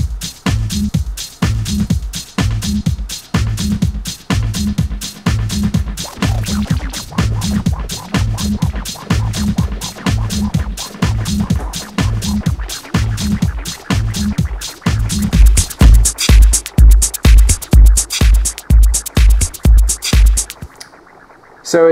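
Techno and house tracks run through two send delays: a steady, punchy four-on-the-floor kick pattern with echoing repeats trailing after the hits. The low thumps grow heavier toward the end before stopping abruptly.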